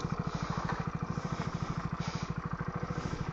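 A Hero Splendor Plus motorcycle struggles uphill on the Sirumalai hill road. Its engine chugs in a steady, rapid low thump, close and continuous, with no voices over it.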